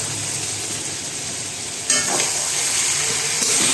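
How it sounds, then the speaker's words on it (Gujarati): Steady sizzling of okra frying in hot oil, with a louder burst of crackling partway through as food hits the pan, plus faint stirring clinks. "અહીંયા આપણે શાક પણ વઘાર લીધું છે"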